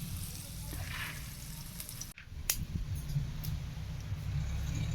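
Spices crackle and sizzle in hot oil as tempering for Maggi noodles, a busy hiss with scattered pops and a sharp clatter midway, close up and without talk.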